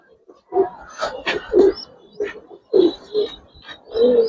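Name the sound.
Giribaz pigeons cooing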